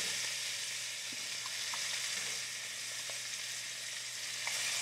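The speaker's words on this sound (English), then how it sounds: "gently turn it over and set it down gently in the pan" Flipped tilapia fillet searing in a hot pan, a steady close sizzle with faint scattered pops and ticks throughout.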